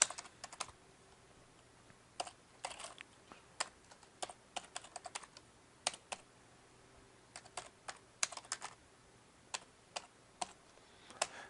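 Someone typing PHP code on a computer keyboard, giving quiet, irregular clusters of sharp key clicks separated by short pauses, with no voice.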